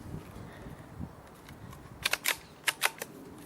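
A custom Theoben MFR air rifle is fired at a Firebird exploding target outdoors: after quiet breezy background, sharp clicking cracks come in two quick pairs, close and distinct, with no talking.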